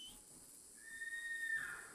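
A single rising, sustained whistle calling a horse in a western video game, thin and fairly faint over quiet background hiss, lasting under a second.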